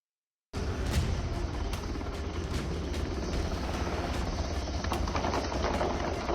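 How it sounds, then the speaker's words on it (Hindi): An Israeli army helicopter hovers overhead in a combat zone with explosions below, a loud, steady rotor roar with scattered thuds and booms under it, continuous throughout. "इजरायली सेना का हेलीकॉप्टर ऊपर मंडरा रहा था और नीचे धमाकों से जमीन कांप रही थी"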